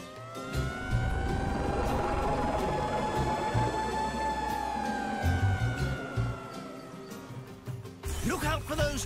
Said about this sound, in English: Okay, let's get on the fire engine.